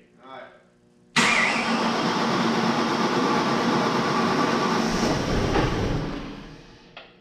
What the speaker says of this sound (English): Turned the car on.